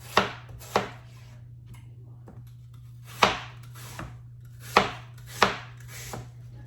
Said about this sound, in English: We're gonna slice our apples, do our 1/4-inch slices.